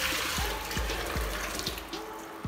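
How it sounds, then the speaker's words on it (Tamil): Hot water pours from a tap into a bucket, a steady close splashing stream with a rising gurgle as it fills, lasting a couple of seconds with no voices. "இந்த வாளியில சுடு தண்ணி ஊத்திக்கிறேன்"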